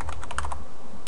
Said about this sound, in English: So I'll begin by typing in rkhunter